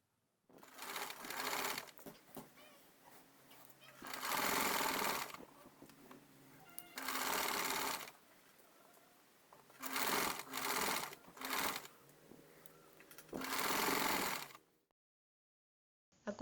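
A sewing machine stitches fabric for a two-layer triangular French khimar, running in several loud bursts of steady mechanical whirring separated by short pauses, with no talking.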